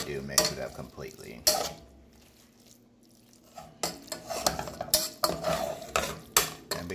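Cheese-drowned noodles stirred in a metal pot, a spoon scraping and clanking against the sides in irregular close bursts separated by short quiet pauses, no speech.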